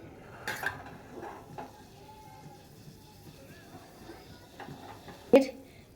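A spoon stirs pudding mixture in a pot, giving a few faint scrapes and sharp metallic clinks while someone talks over it.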